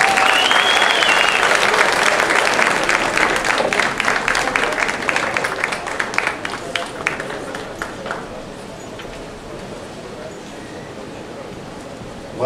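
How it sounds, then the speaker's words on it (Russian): Audience applauding at a boxing event as a boxer from Yaroslavl walks out, dense sustained clapping from a large crowd that slowly thins and fades out over the last few seconds. "Евгений Монин, аплодисменты!"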